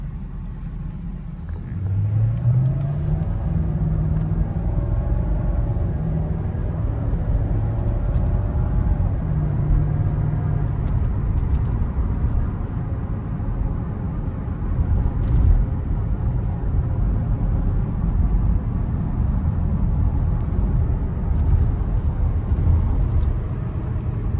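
A 2003 Mercedes SL500 R230 fitted with coilovers drives through traffic, giving a steady low engine rumble and road noise heard from inside the cabin, with occasional gear-change swells and no talking.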